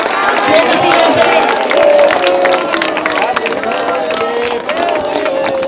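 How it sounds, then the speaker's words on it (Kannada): A crowd at an anniversary function claps and cheers loudly and continuously, dense applause mixed with voices and excited chatter. "ದಯಮಾಡಿ ಎಲ್ಲರೂ ಜೋರಾಗಿ ಚಪ್ಪಾಳೆ ಮಾಸ್ಟರ್ಸ್."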